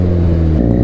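A tuned Benelli 300 motorcycle engine revs loud and close, a deep throbbing exhaust note holding steady and then shifting pitch in a short burst.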